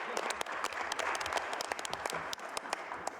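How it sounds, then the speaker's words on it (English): A conference session audience applauds, steady crackling clapping from many hands filling the room throughout without a break, with no one speaking over it. "another round of applause for Paul Needham and Simpa Networks."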